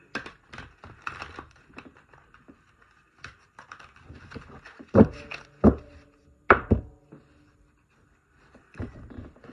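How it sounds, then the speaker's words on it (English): Tarot cards being shuffled by hand in several quick riffling bursts with sharp taps and pauses between, close and crisp. "Give it 3 good shuffles this way."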